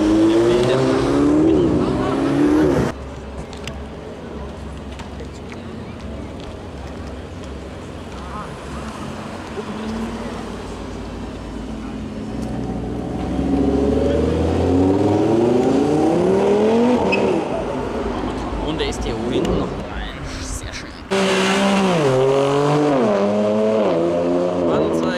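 A Ferrari Enzo supercar leaving a car meet, its engine note rising loudly as it accelerates away, with a second surge of revving near the end; people talk and call out in the background.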